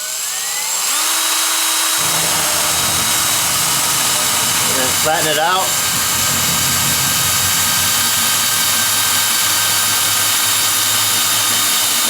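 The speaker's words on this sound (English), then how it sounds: "What I want to do first is go ahead and start the drill at an angle" A battery-powered drill whines steadily as it bores into the bottom of a plastic barrel, loud and close, holding a sustained pitch throughout while someone speaks briefly over it.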